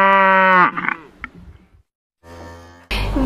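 A cow moos loudly and steadily for about half a second at the very start, followed by fainter scattered noises, a pause, then a rumbling sound and a sudden loud burst.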